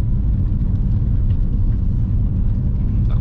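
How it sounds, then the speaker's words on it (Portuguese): Steady low rumble and road noise inside a moving Mini car with a suspension fault, a continuous loud drone throughout with no distinct knocks standing out. "Vocês estão escutando o barulho de suspensão que tá tendo esse carro aqui?"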